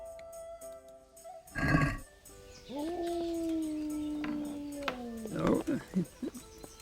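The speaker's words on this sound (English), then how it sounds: "Hear Mutt howling away." Mutt, the dog in Kingdom Come: Deliverance, lets out a long, steady, mid-loud howl that bends slightly downward before breaking into short whimpering yips, over faint game ambience and a brief rustling burst.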